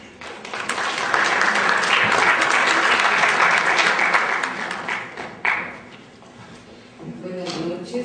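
Audience applause after a talk by Dr. Gina Chávez at an event on legal pluralism and indigenous peoples' law: sustained, dense clapping that swells, then tapers, with a brief renewed burst near the end.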